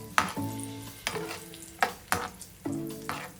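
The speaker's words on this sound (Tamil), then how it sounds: "நான் இந்த எடுத்து வச்சிருக்கிற இந்த முந்திரி பருப்பையும் இந்த உலர் திராட்சையும் போட்டு இதுல நல்லா நான் வறுத்தெடுக்க போறேன்." Cashews and raisins frying in ghee for rava kesari, a soft continuous sizzle broken by four sharp scraping stirs of the spoon against the pan, close and fairly quiet.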